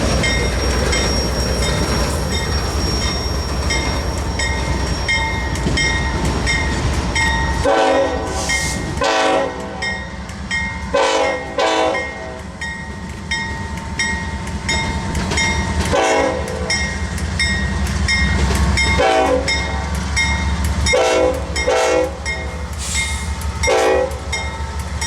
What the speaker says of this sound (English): he's waiting for the train to leave to give us a shot.